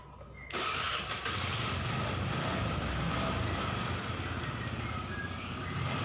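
An older Honda Vario scooter, just fitted with a new part for a battery-drain fault, is started and settles into a steady, fairly loud running drone with no talk.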